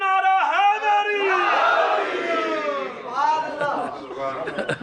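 A crowd chants the Nara-e-Haidri slogan in unison at a religious gathering: loud, sustained massed voices swelling together, with a second shorter surge of the chant toward the end.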